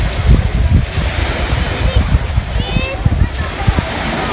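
Ocean waves rolling onto a beach in Tenerife, a loud, steady wash of surf with heavy wind buffeting the microphone throughout.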